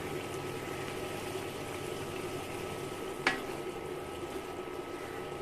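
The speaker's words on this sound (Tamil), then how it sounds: "சிக்கன் கொஞ்சம் வேகட்டும்." Chicken curry simmers in a covered pot with a quiet, steady bubbling hiss and one brief clink partway through; nobody talks.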